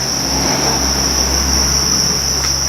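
Crickets raised for farming in Chiang Rai, Thailand, chirp as one continuous shrill high trill, loud and unbroken over a steady low rumble.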